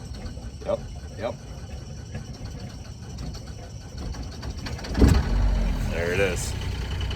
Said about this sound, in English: Come on, engine, start up for me.